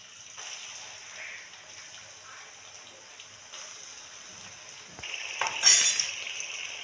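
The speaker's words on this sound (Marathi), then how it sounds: "आपलं वाटण चांगलं तळून द्यायचं आहे" A ground masala paste for chicken masala fries in a pan with a soft, low sizzle and occasional stirring scrapes, swelling into a louder, brighter hiss near the end.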